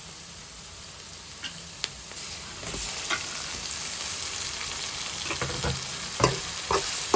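Onions and freshly cut tomatoes fry in oil for a bendakaya gudlu curry, a steady broadband sizzle broken by scattered stirring clatters and scrapes, loudest near the end, with no talking.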